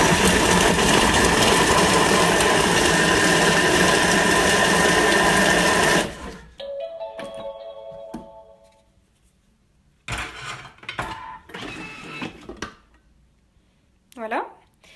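A Thermomix chops chunks of emmental cheese for mini pizzas at speed 5: a loud, steady whirring grind for about six seconds that stops abruptly, followed by quieter handling noises and a voice talking.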